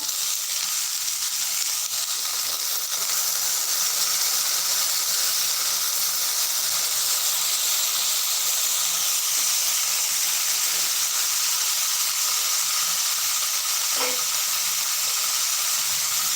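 A traditional village-style vegetable dish frying in a pan, with a steady dense sizzle and hiss holding loud and even throughout, one brief clink near the end, and no talk.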